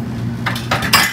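Dishes and cutlery clatter as they are put away in an RV kitchen, three short bright clinks and rattles close by following a quiet start, with no talking.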